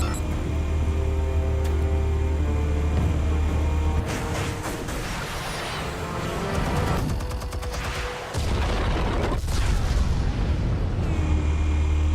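Explosives detonating in Batman: The Telltale Series, a loud, sustained roar of blasts and rumbling debris over a heavy low drone, with sharper bursts near the middle and end.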